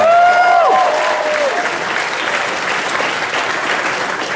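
A convention panel audience at New York Comic Con 2015 breaks into dense, steady applause with cheers and a couple of whistles at the start, the clapping sustained at an even level throughout.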